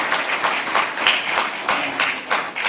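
Conference audience at an investment summit in Nepal clapping steadily, a full, even round of applause heard fairly close, with no voices on top.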